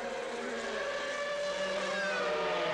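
A race car engine at a 1991 World Sportscar Championship pit stop in Mexico City drones steadily and loudly throughout, its pitch slowly sliding, with no talk over it.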